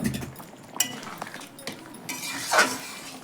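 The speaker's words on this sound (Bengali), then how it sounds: "তাই দেখো আমি খুব সুন্দরভাবে নাড়াচাড়া করে দিচ্ছি" A metal spoon scrapes and clinks against a pan as fish roe dopiaza curry is stirred, with a few sharp taps and a louder scraping swirl near the end.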